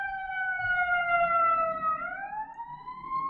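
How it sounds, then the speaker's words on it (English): An ambulance siren sweeps past in a steady wailing tone, its pitch dropping sharply partway through as it goes by, loud over low background rumble with no talk. "Give that ambulance a second to go by."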